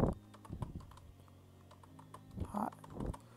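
Keys tapped on a computer keyboard in short, irregular bursts with pauses between, close and fairly soft, with no talking over it.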